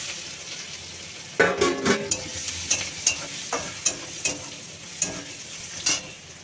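Crushed garlic dropped into hot oil with dried chilli and nigella seeds, a sudden loud sizzle that settles into steady frying, punctuated by a run of rhythmic stirring scrapes in the pan, no talking.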